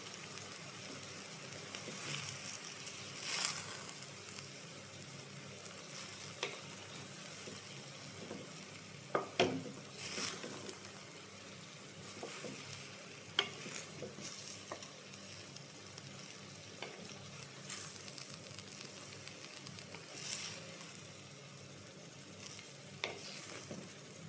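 Cabbage thoran with garlic and turmeric frying in hot oil as it is stirred, giving a steady soft sizzle with occasional scrape and clatter of the spoon against the pan, close by and with no one speaking.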